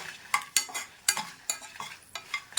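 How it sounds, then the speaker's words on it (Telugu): Dried red chillies fry in oil in a pan for a peanut and brinjal chutney, crackling under close, rhythmic stirring with a utensil that gives bright scraping clicks about every quarter second over a steady sizzle. "ఎండుమిర్చి కూడా కొద్దిగా మనకి వేగాలండి."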